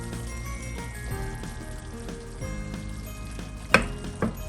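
Spaghetti going into a pan of sizzling garlic and lemon sauce: a steady soft sizzle and frying hiss, with two sharp clinks of utensils against the pan near the end.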